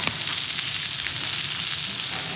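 Butter melting in a pan at a North Woods cabin cook of lobster and venison, a steady close hiss and sizzle with no break, no voices over it.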